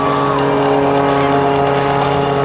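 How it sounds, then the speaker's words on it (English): The Oracle Challenger aerobatic plane flies at the 2006 MCAS Miramar airshow, its engine a loud, continuous, close droning roar with a steady tonal whine throughout. "Put your hands together one final time for Sean D. Tucker and the Oracle Challenger"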